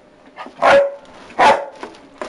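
Two sharp, close dog barks sound about a second apart, each followed by fainter smaller yips, inside a basement room where the dogs hang out.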